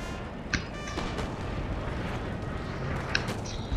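Musket volleys in Napoleon Total War at the Battle of Ligny, two sharp cracking shots over a dense rumbling battlefield din, loud and close.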